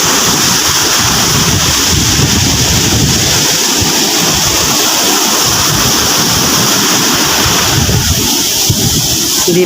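Loud, continuous rushing of waves and wind, with a low boat engine churning somewhere in the noise as the boat turns near the shore.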